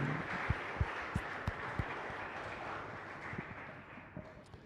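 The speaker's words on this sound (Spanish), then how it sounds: "para todos los servidores, un fuerte aplauso y muchas gracias también" Scattered clapping from a small congregation at a chapel Mass, a few sharp individual claps standing out over a soft background patter that fades away.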